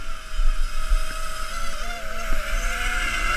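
A SunnySky R2205 2300KV FPV racing brushless motor runs on a test bench at full throttle on a 3-cell battery, a steady high-pitched whine with slight wavering, loud and close.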